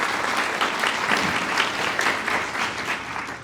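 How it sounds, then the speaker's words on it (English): An audience at a career and workforce summit claps in a sustained, dense round of applause that holds steady at a fairly loud level for a few seconds. "So another round of applause, please."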